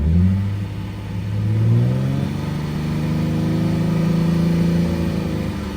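An Infiniti G35 with a blown head gasket revs to about 3,500 RPM, its engine loud and close, climbing briefly and then holding a steady, sustained drone.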